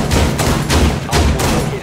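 Shotgun blasts in the Rainbow Six Siege game on the Hereford map, three loud broadband bursts spaced roughly half a second apart, each with a short decaying tail over steady background noise.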